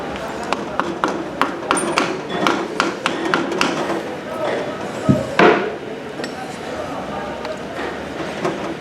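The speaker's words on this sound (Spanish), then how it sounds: "Podemos ayudarnos de un martillo de goma." A rubber mallet taps a motorcycle oil pump down onto its base during clutch assembly, giving a run of sharp, evenly spaced knocks up close, with a heavier blow near the middle and a few scattered taps afterward.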